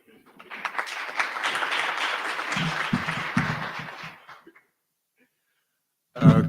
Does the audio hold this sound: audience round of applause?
yes